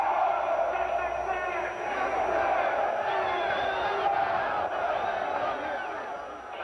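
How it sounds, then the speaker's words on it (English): Loud crowd voices shouting and cheering together in a sustained roar, with scattered whoops rising over the din throughout. "He's just gotten several very loud responses from the"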